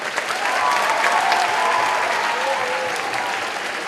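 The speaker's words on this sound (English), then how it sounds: "once again, a round of applause" A crowd applauds the acts at a school talent show, a steady wash of clapping held at even strength from start to finish, with faint murmurs mixed in.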